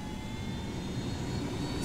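A helicopter in the video game Ghost Recon Wildlands drones steadily with a low rumbling engine and a faint high whine, continuous and even throughout.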